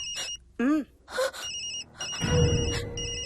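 An electronic phone ringtone pulses repeatedly in short, even bursts throughout, while a voice gasps and moans over it.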